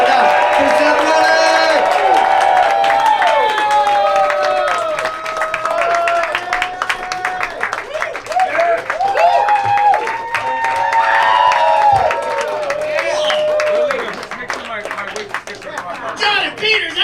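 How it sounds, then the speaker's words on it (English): A live stand-up comedy crowd in New Hope applauds and cheers for comedian Seth Ruddick: sustained clapping and whoops fill the room, mixed with chatter and scattered laughter, running steadily before easing slightly near the end. "Clap it up for Seth Ruddick!"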